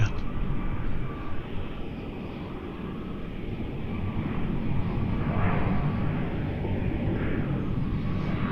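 Boeing 747 cargo freighter aircraft at Melbourne Airport, a steady broadband jet engine roar at moderate distance that swells slightly midway and holds continuously, with no talk over it.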